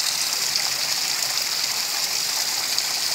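Mineral spring water flows at Bath Fountain in Jamaica as a steady, even rush with no breaks, close and fairly loud, with no voices over it.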